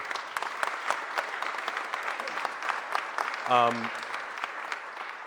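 Audience applause for the mayor at a business roundtable launch press conference, steady dense clapping filling the room throughout, with a brief tonal sound rising near the end.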